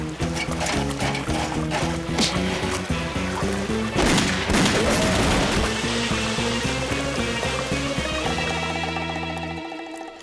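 Gunfire rings out in a Lucky Luke cartoon, loud repeated shots over busy music and effects before the scene quiets near the end.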